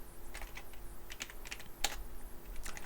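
Fingers type on a computer keyboard while text is entered into a spreadsheet exercise, giving quick irregular clicks with a few sharper keystrokes, close and fairly quiet, with no talking.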